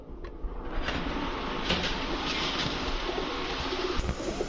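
Naptha pigeons, a male and a female, coo in a loft amid a steady wash of broadband background noise, their calls low and blended rather than distinct.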